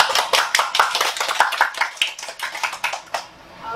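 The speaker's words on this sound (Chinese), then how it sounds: "我们就请大家拍拍手" An audience at a public book talk on Vietnam, held by a city cultural affairs bureau, applauds to welcome the lecture speaker with a brisk burst of dense, close clapping for a few seconds that stops abruptly.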